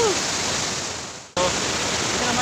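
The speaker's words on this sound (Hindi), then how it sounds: "मस्त एकदम पानी का आवाज़ आ रहा है वाटरफॉल का" The Durma waterfall near Hikmiras in Sukma, Chhattisgarh, gives off a steady, broad rush of falling water close by, continuous apart from a brief dropout partway through.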